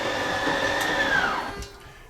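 Schwintek in-wall slide-out motors on an RV drive the room with a loud steady electric whine and whir, its pitch sliding downward before the motor noise tapers off near the end.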